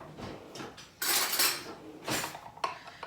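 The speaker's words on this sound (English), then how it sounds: "And then we're just going to mix to dissolve." Stirring gelatin into a quarter cup of just-boiled kettle water for tomato mousse: a spoon scrapes and clinks against a bowl in close, uneven bursts, loud scraping strokes alone without talk.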